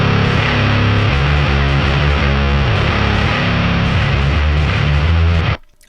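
Electric guitar run through heavy fuzz distortion plays thick sustained chords, loud and saturated for several seconds before cutting off abruptly, with no talk.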